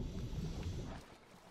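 Motorboat in PUBG chugging steadily at close range with a low, rough engine rumble and water wash, dropping to a quieter idle partway through.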